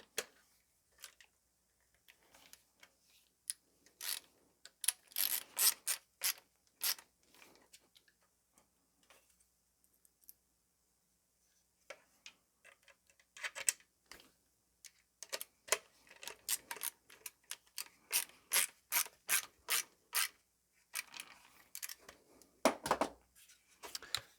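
Small screws being fitted through the side of a Tapco Intrafuse stock for a Ruger 10/22 rifle and driven into nuts, giving sparse clusters of sharp metallic ticks and clicks close by, with quiet pauses between bursts and no talking.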